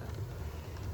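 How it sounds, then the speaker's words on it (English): Smoke generator fan in an OO gauge model locomotive on a DCC layout gives a steady, faint low whirring hum that runs continuously without a break. "The noise you can hear is the fan, if you can hear that, for what blows the smoke out."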